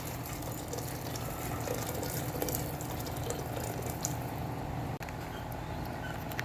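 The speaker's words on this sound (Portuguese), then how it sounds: "Aí aqui, eu já vou colocar água quente e vou deixar esse frango cozinhar." Hot water being poured into a pot of chicken to cook it, a steady close rushing, gushing pour running continuously with no talk.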